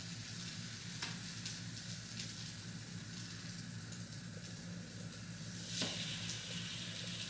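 Brioche French toast frying in a pan, a steady soft sizzle with light crackle throughout, joined by a couple of brief clinks or taps, no voices.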